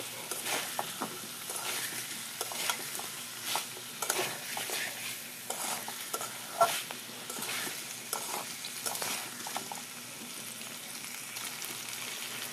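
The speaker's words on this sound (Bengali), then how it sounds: "এবার এর মধ্যে দিয়ে দেবো ভেজে রাখা আলু দিয়ে সব ভালো মতো একসাথে আবার ভেজে নেব" Chicken and previously fried potatoes frying together in a pan for a light chicken curry, a soft continuous sizzle with irregular scraping and clinking stirs, fairly quiet and close, no speech.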